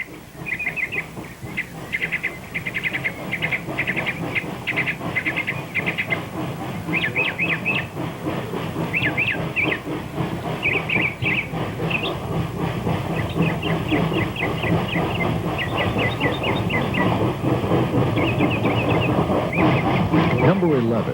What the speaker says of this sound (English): The cameraman walks ahead a bit from the point to catch the train snaking through a cut.